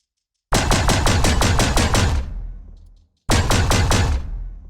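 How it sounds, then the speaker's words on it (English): Two loud bursts of rapid-fire blasts from a heavy sci-fi mega cannon for a game robot character, each volley of about eight shots trailing into a rumbling decay before the next. "our second instance, which is our mega cannon. If we set it to burst mode"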